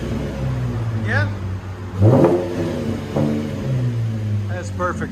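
Cadillac CTS 3.6L V6 with rear muffler delete and 4-inch tips, giving short throaty revs in quick bursts close by, with voices talking over the exhaust.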